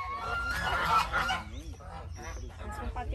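A large goose honks repeatedly at close range, loud nasal calls in the first half that fade into quieter bird sounds while people talk nearby.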